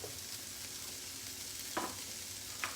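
Vegetables heat in a pan for chicken pot pie, giving a steady soft sizzle with a couple of brief stirring scrapes, quiet and close, no talk.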